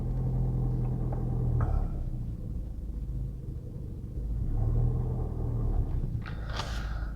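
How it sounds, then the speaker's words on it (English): A car creeps forward slowly in traffic on a driving test route in Lichfield, giving a steady low engine rumble inside the cabin that swells gently and then eases. "I'm bringing the car forward slowly now."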